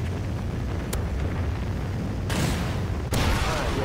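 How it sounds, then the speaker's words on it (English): A Trinity rocket strike in Call of Duty Ghosts, loud sustained rumbling barrage with a sudden surge of roaring blast noise partway through, dense and continuous. "Friendly Trinity rocket sounded inbound."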